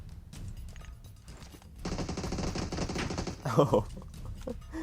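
Automatic gunfire rattles in PUBG Mobile, fast close bursts starting midway and followed by a heavier impact, while a voice talks over the action.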